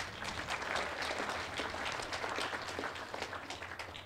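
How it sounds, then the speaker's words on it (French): Audience applause for a speaker being introduced at a French-language lecture session, steady dense clapping from a crowd, moderately loud and sustained throughout with no voices on top. "Et Thierry Dias, on peut applaudir aussi"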